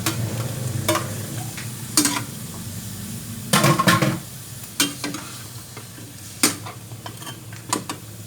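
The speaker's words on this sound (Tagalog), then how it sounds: "Next na natin ang liver. Para maluto din siya." Liver sizzles in a pan under a low steady hiss, while a utensil stirs and clanks against the metal in irregular sharp knocks, close up and with no talking.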